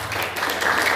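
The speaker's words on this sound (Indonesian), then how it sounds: "Tepuk tangan dulu." Brief burst of audience applause at a cooperative training seminar, a dense steady wash of clapping lasting about a second, fairly loud and without talk.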